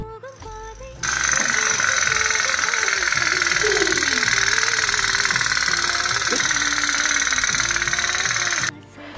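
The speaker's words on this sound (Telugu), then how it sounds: "మీకు కూడా ఇది రియల్ మోటార్ బోట్లా అనిపించింది కదా సౌండ్ వినగానే" A toy motor boat engine runs in a continuous buzzing drone, loud and close, starting abruptly after a second and cutting off near the end.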